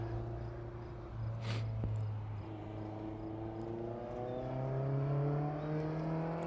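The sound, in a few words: autocross car driving a sighting lap on the course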